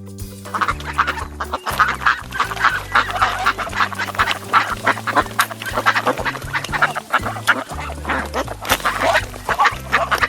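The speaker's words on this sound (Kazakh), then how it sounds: "Үйрек, утка." Repeated nasal duck quacks and honks in a steady, busy rhythm, loud and close, with no talking.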